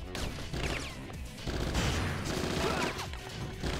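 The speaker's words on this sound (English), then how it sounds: "the machine gun is the way to go" Rapid machine gun fire in the Bad Boys Miami Takedown video game, dense overlapping bursts with crashing impacts, loud and continuous across the whole stretch.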